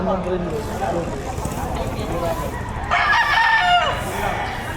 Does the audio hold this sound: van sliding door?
no